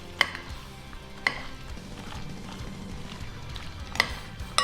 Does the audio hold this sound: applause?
no